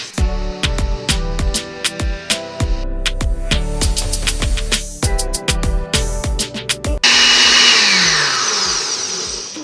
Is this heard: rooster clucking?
no